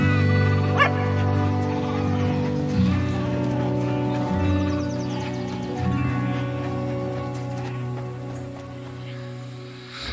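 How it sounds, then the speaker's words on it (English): A dog barks and yips in a video game trailer shown at Summer Game Fest 2023, with short calls standing out over a sustained musical backdrop and faint voices. "What type of dog is that?"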